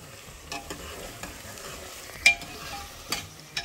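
Onions for mutton kadahi fry quietly in a pot, a soft, low hiss with occasional scraping stirs and small spits.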